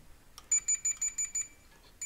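A hotel room key-card lock in Kemer, Turkey, gives a quick run of about seven bright electronic beeps at an even rhythm, then a final beep after a short pause. The sound is clear and close, with no voices over it.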